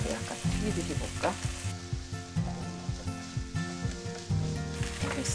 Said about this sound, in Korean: 고추장 넣을 때 식용유 하나 넣고 고추장을 넣어. 약간 튀기듯이 볶아.